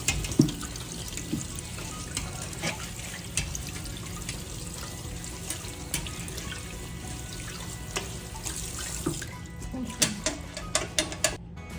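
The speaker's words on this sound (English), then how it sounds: "You want your beans clean, so we just clean our beans a little." Hot tap water runs steadily over canned beans in a strainer in a home kitchen, a continuous close hiss and splash with occasional ticks and clatters.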